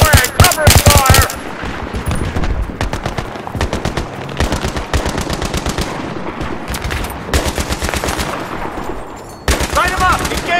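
Heavy automatic gunfire fills a Battlefield 3 singleplayer firefight, with rapid dense bursts running almost continuously, close and loud, and brief shouted voices mixed in.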